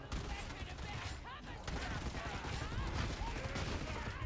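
Rapid video game gunfire crackles in steady bursts, with players' voices talking over the shots throughout.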